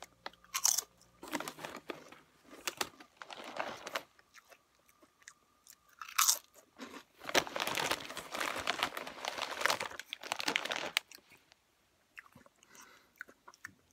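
Crunching and chewing Lay's Smokey Bacon potato chips close up, with crisp bites and bursts of mastication alongside a few rustles of the crinkly bag, coming in uneven clusters separated by quiet pauses.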